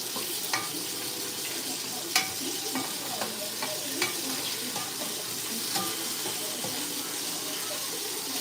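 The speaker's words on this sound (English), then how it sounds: "Frying up 2 different types of french fries." Two kinds of french fries frying in hot oil, a steady close sizzle with occasional stirring clinks and scrapes, no voices.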